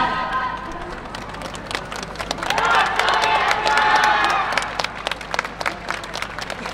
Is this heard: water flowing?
no